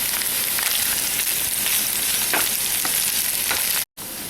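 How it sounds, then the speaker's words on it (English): Potatoes and green chilies being stirred into soft frying onions in a pan for potato patties: a steady, loud, close sizzle with faint scraping stirs, broken by one brief silent gap near the end. "I'll add my potatoes and the green chilies and give this a good mix."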